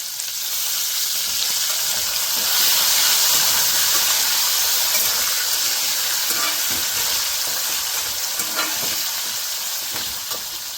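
Green chillies frying in hot oil for a tempering while cooking a kanda bachali curry, a loud, continuous sizzle and hiss with occasional stirring, close and steady with no talk.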